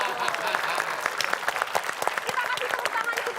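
Studio audience on an Indonesian TV quiz show breaks into brisk, close applause, a thick rattle of clapping with sharp individual claps poking through, while voices carry on underneath.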